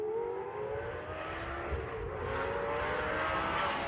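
Lamborghini engine fitted with a sport catalytic converter, a loud, steady high-pitched exhaust note that holds and rises slightly over four seconds, close and alone.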